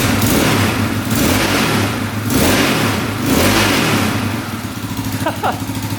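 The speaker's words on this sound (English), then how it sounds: "Try revving it up." An ATV quad engine with a faulty part held shut, revved up and down in repeated swells, loud and close, with a rough rising-and-falling drone before dropping back toward idle.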